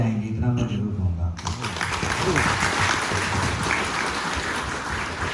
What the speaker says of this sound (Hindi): आपने ताली बजाया